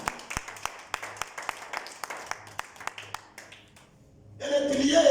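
A church congregation at a Sunday service claps in steady, sharp individual claps, then swells into louder, fuller applause at the end.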